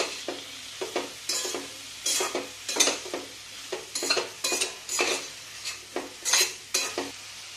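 Dry capsicum and potato sabzi with crushed peanuts being stirred in a pan, repeated close metal spatula scrapes and clinks in an irregular rhythm over a low sizzle, no voices.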